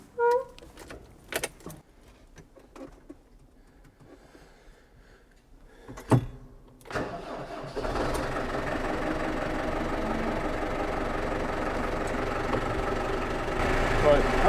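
A vehicle engine is started after some clicks and key rattles, catches with a burst, then settles into a steady, loud idle as it warms up.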